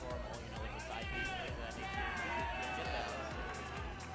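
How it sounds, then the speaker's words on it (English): Loud tournament crowd at a gaming event, a dense continuous roar of cheering and babble with rhythmic thumping underneath, steady and close throughout. "I can't even hear you over how loud the crowd is."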